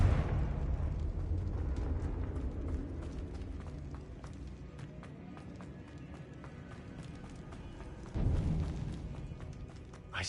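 Confringo fire-blast spell exploding in Hogwarts Legacy, a rumbling burst near the end rising above a steady background of footsteps and game ambience, with a spoken incantation.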